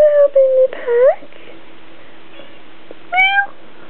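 A house cat meows several times while the family packs, short bright rising cries with a final longer meow, close by in an otherwise quiet room.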